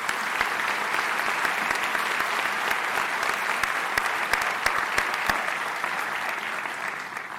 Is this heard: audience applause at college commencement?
yes